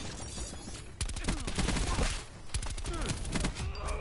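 Shotgun fire in a multiplayer shooter, with rapid loud blasts in close succession and brief pauses between volleys over continuous game noise, while a voice talks under the action.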